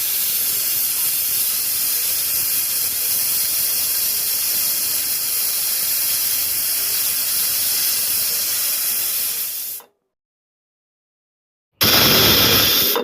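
A pressure cooker cooking khichuri vents steam in a loud, steady, close hiss for about ten seconds. It cuts to silence, then the hiss returns abruptly just as loud.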